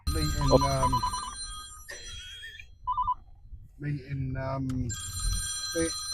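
A mobile phone ringtone rings in short electronic bursts at a busy Case IH stand at the LAMMA farm machinery show, with people talking close by and over it.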